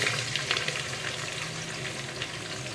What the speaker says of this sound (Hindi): फिर उसके बाद मैं प्याज फ्राई इसी ऑयल में करूँगी।